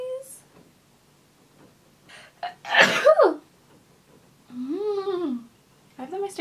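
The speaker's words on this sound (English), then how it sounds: "I need to sneeze." A single forceful sneeze bursts out near the mic mid-clip during a makeup application session, with a short voiced tail after it and brief speech-like sounds following.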